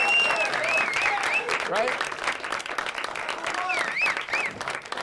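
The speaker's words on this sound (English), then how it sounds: "let's have a round of applause for all the men and women that protect us day in and day out" An audience at a comedy show gives a sustained round of applause, a steady wash of clapping and some cheering running under a host who keeps talking.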